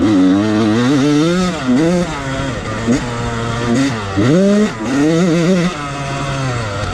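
A loud two-stroke Yamaha YZ125 dirt bike engine revving up and down repeatedly, its pitch rising and falling in short bursts with brief idles between.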